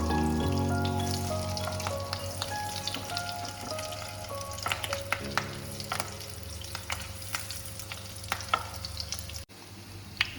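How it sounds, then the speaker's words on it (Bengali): Fish roe fritters sizzle in hot oil as they are flipped one by one, a close, dense crackling frying sound with sharp clicks and scrapes of the utensil against the pan throughout. "এবার বড়াগুলো একটা পাশ ভাজা হয়ে গেছে। এবার উল্টে আরেকটা সাইড ভেজে নেব।"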